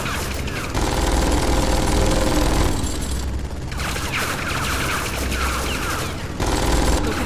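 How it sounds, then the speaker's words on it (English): Sustained video game gunfire in Tales from the Borderlands, a dense continuous barrage of rapid shots with booming bursts that fill the whole stretch and briefly dip once, without any voices. "I can run through the gunfire."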